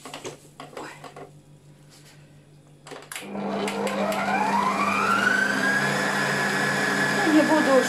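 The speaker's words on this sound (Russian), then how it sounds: "Блендер включен." A blender purees fresh strawberries, first some low clatter and talk, then the motor kicks in around three seconds and whirs loudly and steadily, its pitch rising as the fruit breaks down.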